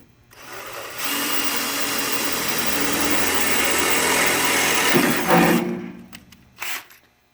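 A step drill bit (unibit) bores a hole while trimming a car's inner fender, giving a loud continuous grinding whir for about five seconds before the drill stops, followed by a few short bumps and clatters.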